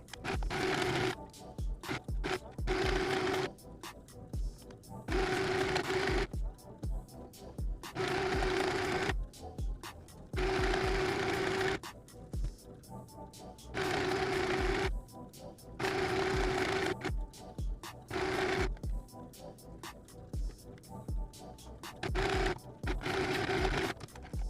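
A sewing machine stitches gathered fabric for a milkmaid top, running in repeated bursts of steady whirring separated by short pauses, close and clear with no talking.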